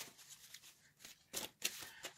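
Tarot cards shuffled by hand give soft, quiet riffling and flicking, with two sharper snaps of the deck near the end, close to the microphone and with no talk.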